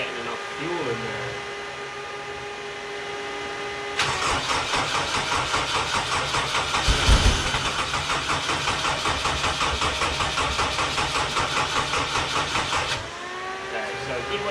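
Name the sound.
engine being started, not getting enough fuel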